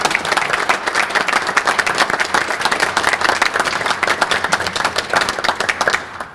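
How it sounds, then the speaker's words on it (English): A school assembly audience applauds steadily with dense, loud clapping that carries on for several seconds, then starts to fade at the end. "I think you should give yourself a round of applause."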